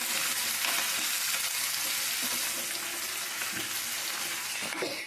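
Mint leaves sizzle in a pan while frying for mint chutney, a soft, steady crackling hiss with occasional stirring scrapes, close but fairly quiet and without speech.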